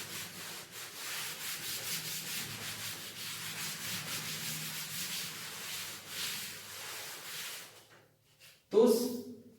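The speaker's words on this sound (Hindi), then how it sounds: "तो इसको मैं रब कर रहा हूं।" Steady repeated rubbing of a duster across a classroom board to erase writing during a physics lecture, a continuous scratchy back-and-forth that stops abruptly near the end, followed by a short thump.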